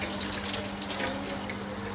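Running water pours steadily from a kitchen tap into a bowl used for seasoning chicken, filling it for rinsing; a continuous, close, even splashing rush with no talk.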